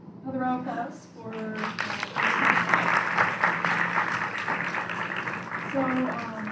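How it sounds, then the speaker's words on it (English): Crowd applause at a film festival screening, a broad steady wash of clapping lasting several seconds, with brief speech heard at the start and again near the end. "Another round of applause for"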